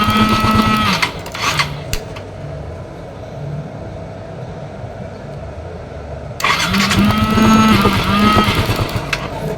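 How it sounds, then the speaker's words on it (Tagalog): A Yamaha Mio i 125 scooter engine runs loudly after an ignition coil fault is fixed, drops to a lower idle for several seconds, then roars up again near the end. "umandar pa yung kanyang motor"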